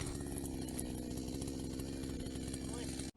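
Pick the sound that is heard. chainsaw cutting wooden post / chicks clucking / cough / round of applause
chainsaw cutting wooden post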